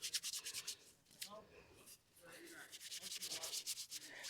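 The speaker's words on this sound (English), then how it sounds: "Good thing about the snow and the ice, instant hand washer." Hands rubbed and scrubbed together with snow and ice outdoors in the cold, giving close, rhythmic gritty rasping in repeated bursts with short pauses between them.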